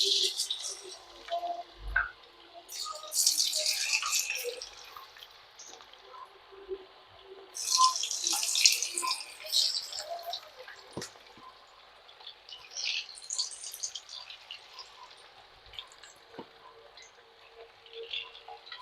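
Cauliflower pieces dropped into hot sunflower oil, giving bursts of bright crackling sizzle that swell and fade across the clip, with quieter bubbling between them and faint kitchen clatter.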